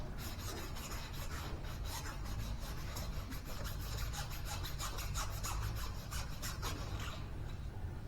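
A wheel spindle and its seal surface are scrubbed clean by hand, giving a steady, quiet, continuous rasping rub with no pauses.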